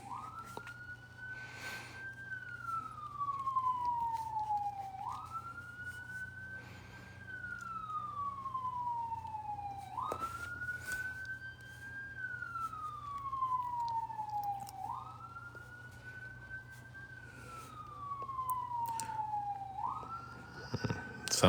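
An ambulance siren wails outside in a steady rising-and-falling cycle, repeating about every five seconds over a low constant hum, clear and moderately loud throughout.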